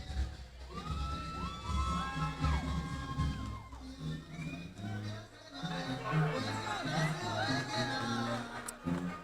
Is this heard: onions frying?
no